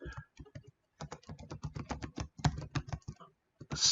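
Code being typed on a computer keyboard: rapid, close, crisp key clicks in quick irregular runs with one brief pause, no speech.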